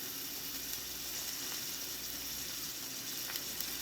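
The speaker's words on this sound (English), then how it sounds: "I'll saute the yellow onion. I'll add about 2 tablespoons of extra virgin olive oil" Yellow onion sautés in extra virgin olive oil in a pan, a steady, close sizzle that holds an even hiss from start to finish with no voices.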